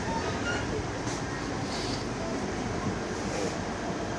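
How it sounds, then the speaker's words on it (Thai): A train rumbles steadily through an elevated station in Kuala Lumpur, a broad continuous roar with faint rattling and brief squeals, no voices. "นี่สถานีรถไฟฟ้านะครับอีกสถานีหนึ่ง"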